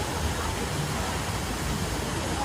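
Steady, rushing water from the waterfall on the Calico River Rapids theme park ride at Knott's Berry Farm, a continuous broadband splash and roar that holds at an even level throughout, with no talking.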